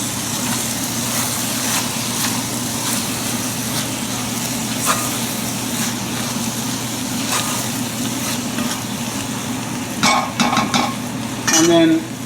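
Eggplant relish with pine nuts stirred in a pan: a low steady sizzle beneath repeated scraping strokes of a utensil, ending in a few sharper clinks and knocks against the pan, with no voices.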